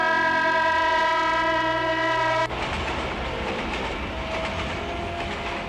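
A train runs along the rails in snowy country, sounding a long steady horn blast that cuts off midway, then a loud continuous rumble and clatter of the wheels close by.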